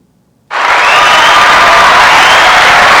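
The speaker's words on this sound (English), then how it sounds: "can we get a round of applause?" A comedy-show audience breaks into applause and cheering after a brief silence, the dense clapping and crowd noise holding loud and steady to the end.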